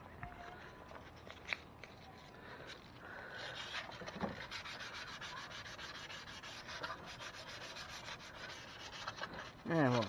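Hand sanding with 625-grit sandpaper on a 1978 Lincoln Continental Town Car during a valve cover gasket job makes a soft, steady scratchy rubbing, close and quiet, with a brief louder scrape at the end.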